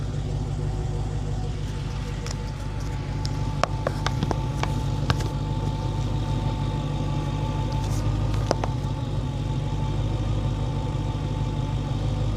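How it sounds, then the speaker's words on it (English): A Dodge Hellcat idles with its supercharger area in close view, giving a steady mechanical hum and faint whine under a low engine drone, with scattered clicks and some wind noise. "now we're going to put you by the supercharger area and we're going to see what that sounds like"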